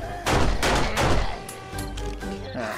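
Repeated shotgun blasts in the zombie survival game 7 Days To Die with the War Of The Walkers mod, several loud booming shots in quick succession that ring out and fade toward the end.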